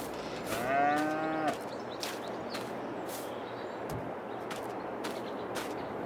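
A cow moos once, long and close, in Farming Simulator 22 on an old Polish farm, with a series of soft thuds or footsteps spaced out afterward against a quiet farmyard background.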